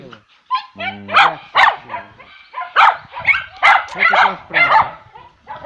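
Mother dogs kept with their puppies bark close and loud in a quick, repeated string of sharp barks and yips, with a person talking among them.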